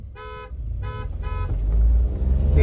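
Two Hyundai i20 N Line cars sound their horns in three short, loud honks, followed by rising engine rumble as the cars pull away.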